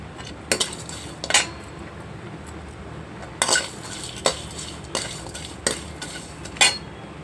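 Whole spices dry-roasting in a pan for gongura chicken, with a steady low background and about half a dozen sharp, separate spatula scrapes and clinks against the metal. No one speaks.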